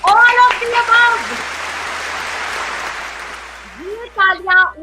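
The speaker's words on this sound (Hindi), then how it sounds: "ये तालियां उनके लिए है" Audience applause at a product launch event for agricultural paddy crop solutions, a dense steady wash of clapping that swells and settles, with a voice speaking over the start and again near the end.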